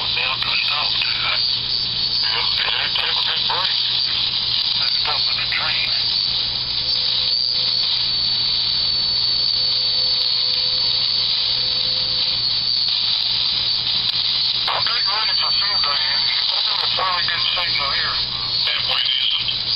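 A one-tube regenerative radio receiver plays loudly through an amplifier, giving a steady, dense band of received audio with whistles and warbling tones drifting across it for the whole stretch.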